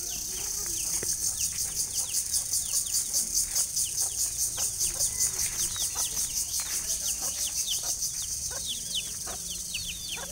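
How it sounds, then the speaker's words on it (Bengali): Chickens in a village yard cluck and cheep in short scattered calls over a steady, fast-pulsing high drone that runs the whole time, moderately loud and close. "এই যে মুরগি কামড় দিবে কিন্তু মিনহাজ।"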